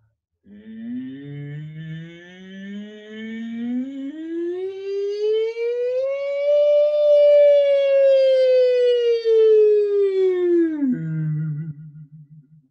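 A group of children's voices sings together in a smooth siren imitation, gliding slowly upward in pitch, holding high, then sliding back down and ending.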